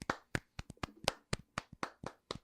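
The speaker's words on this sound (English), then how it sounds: "golf clap." A few people at a podcast recording give a quiet golf clap, about a dozen sparse, soft claps in loose, uneven rhythm, close by and with no talk over them.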